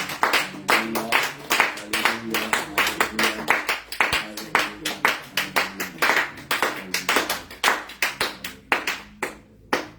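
A church congregation claps in steady, energetic rhythm during worship, dense overlapping handclaps filling the space near and loud, with faint voices underneath.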